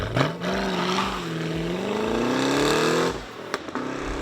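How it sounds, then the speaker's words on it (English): Holden HSV 6.2 litre V8 engine and exhaust, a close, loud revving run with the pitch climbing steadily for about three seconds, then cutting back into brief burbling crackles on the overrun. "It's got these unique patented exhaust tips on it that crackles and burbles on the overrun."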